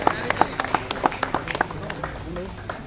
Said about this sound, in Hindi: उनके लिए भी जोरदार तालियां